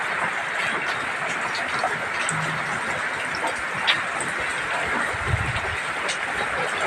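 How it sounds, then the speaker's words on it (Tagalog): Heavy typhoon rain pours in a steady, dense broadband wash that stays loud and even throughout, with a few faint low thumps underneath and no voices. "Mga ulan na bagyo guys"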